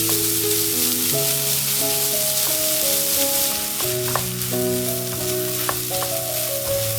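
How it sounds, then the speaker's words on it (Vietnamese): Marinated meat fries vigorously in hot oil with dried shrimp, making a loud, continuous sizzle. Steady tonal notes run beneath the frying, with no talk. "Tiếp theo thì mình cho phần thịt đã ướp vào, dùng thìa dần nhỏ ra để cho thịt tơi và săn lại."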